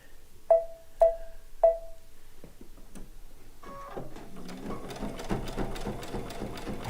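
A sewing machine stitches fabric for a chicken pin cushion. Three sharp mechanical clicks sound first, then a quiet, rapid, steady chatter of stitching starts up nearby.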